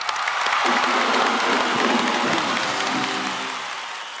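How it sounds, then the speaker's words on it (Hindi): Loud applause from a large television studio audience fills the clip, with cheering voices mixed in, holding strong before easing off slightly at the end. "इन सबके लिए जोरदार तालियां हो जाएं"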